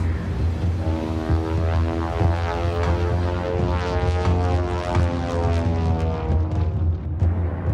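Engine drone of a Sikorsky 38 flying boat aircraft in a WWII South Pacific drama scene, a steady, throbbing multi-engine propeller roar with pulsing beats, loud and continuous with no voices.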